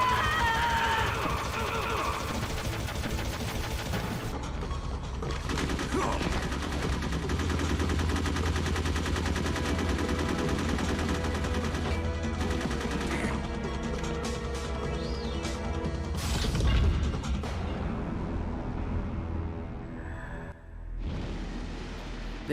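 Continuous video-game gunfire and bursts of shooting fill the scene, loud and dense throughout, mixed with game sound and music, with a sharp crash near the end.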